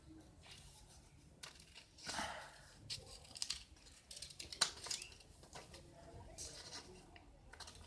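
Scissors work through a sheet of A4 paper with scattered soft snips and crinkling rustles, quiet and close, spread over several seconds with faint talk in the background.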